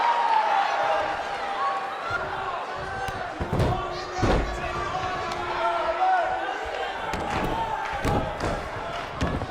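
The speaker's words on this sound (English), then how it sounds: "And she slams her back down." A couple of heavy body-slam thuds land in a WWE wrestling video game, cutting through a constant crowd roar while a commentator talks.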